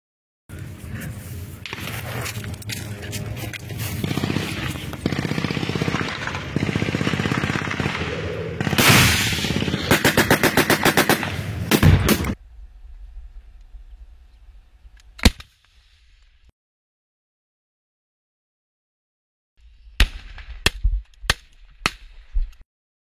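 Battle gunfire from the Israel-Hamas war rings out in dense bursts and cracks over heavy noise for about twelve seconds, then a lone loud shot, silence, and a final cluster of sharp separate reports.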